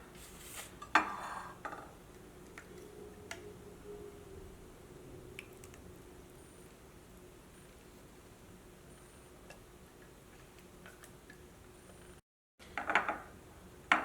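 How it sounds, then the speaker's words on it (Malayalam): Blended mango and curd are transferred into another bowl: faint, sparse scraping and a few soft clinks and squishy slops of a spoon against the dishes in a quiet kitchen. "വേറൊരു പാത്രത്തിലേക്ക് പകർത്താം."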